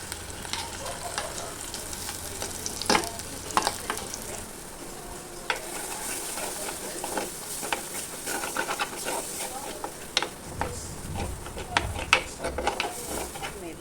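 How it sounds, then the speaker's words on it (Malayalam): Chili and turmeric fry in a pan for a fish curry, making a close crackling sizzle with repeated scraping strokes of stirring throughout and no talking. "മുളക്, മഞ്ഞൾപ്പൊടി ചേർത്ത് കൊടുക്കുക"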